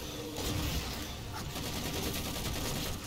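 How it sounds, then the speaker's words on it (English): Dense, continuous gunfire from the Halo 4 video game on Legendary difficulty, a steady loud barrage of rapid shots filling the whole stretch with no pauses. "I got shot in the back."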